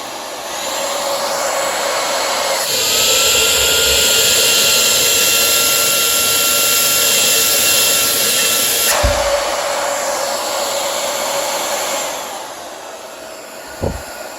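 A budget cordless vacuum cleaner whines steadily at high power, its pitch stepping up partway through as the setting rises and then dropping back before a soft knock near the end, loud and close with no talk.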